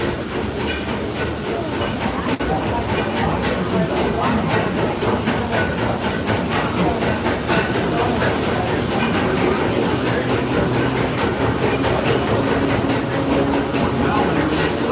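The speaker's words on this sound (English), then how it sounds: "welcome aboard the Disneyland Railroad" Disneyland Railroad steam excursion train running on its tracks, a steady loud rumble with rhythmic clicks and hiss throughout, no clear talk.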